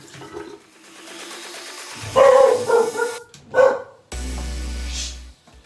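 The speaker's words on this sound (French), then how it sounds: "mon chien a aboyé" A pet dog barks sharply indoors in a few loud bursts, close to the listener, separated by short pauses, followed by a low rumbling water-like noise near the end.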